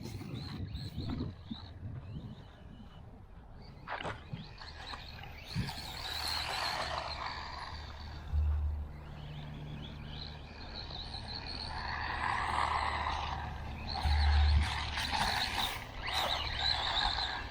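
Eachine EC30B brushless RC buggy pushing through long, unmown winter grass over small mounds, a steady mechanical whir with swelling bursts and rustling as it drives, moderately near, with no voices.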